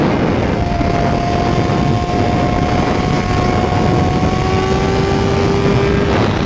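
Honda Hornet motorcycle engine running rough and sluggish, a loud steady drone with faint whining tones rising slowly over several seconds, no voices.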